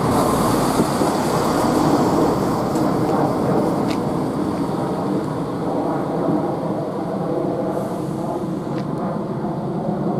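A Class 170 diesel multiple unit idles at March railway station, its engine giving a steady low rumble and drone throughout, with faint higher clanks or hisses drifting over the station.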